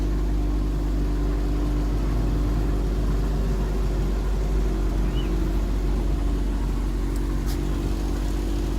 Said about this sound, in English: Now my car running fine.